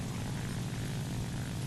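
A propeller airplane engine drones in a steady, loud, unbroken hum during a video game flight, heard alone without any voices.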